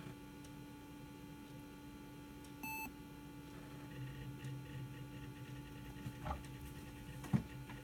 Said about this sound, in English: So that beep there, I don't usually hear that.